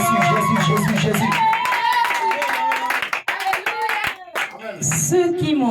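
Church congregation clapping rapid rhythmic hands and acclaiming with voices and singing over the top, loud and lively, with a dip in the middle before the crowd picks up again.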